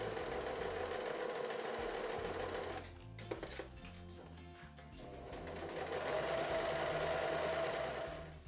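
A sewing machine stitches steadily all the way around an elastic waistband, with a continuous close mechanical whir that briefly slows and stutters midway before running at full speed again.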